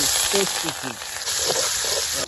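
A masala paste of ginger, garlic and cumin for koi fish fries in soybean oil in a wok, making a continuous close sizzle, with a voice briefly audible early on.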